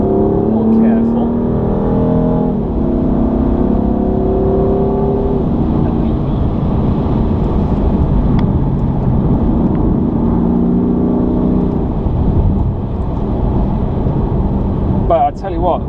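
A BMW M4 with over 400 horsepower revs on a mountain road. The engine climbs and falls in pitch and hums loudly beneath continuous talking from the driver.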